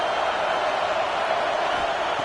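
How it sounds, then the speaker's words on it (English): A college football stadium crowd at an Ole Miss versus Gators game roars in a steady, dense wash of distant cheering, loud and continuous. "Listen to the crowd energy here in the early going."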